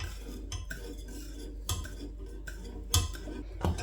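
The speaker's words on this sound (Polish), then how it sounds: "Zostawiamy jeszcze na palniku, ciągle mieszając około 40 sekund." A spoon stirs strawberry cream cake filling in a pot on a stove burner, steady scraping and swishing close by, punctuated by a few sharp clinks of utensil against the pot.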